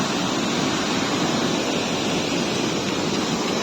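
Rushing water of a waterfall pours as a dense, steady roar filling the whole stretch at close range, with no voices.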